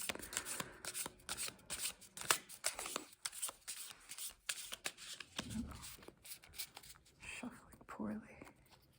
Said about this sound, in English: shall we shuffle briefly and see what cards come out?